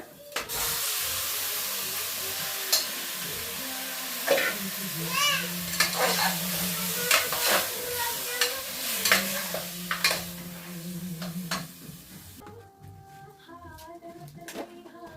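Mutton drops into a hot pan and hisses loudly, then is stirred with repeated scraping clatters over a continuous sizzle; the frying dies down near the end, leaving faint clinks and a short stretch of talk.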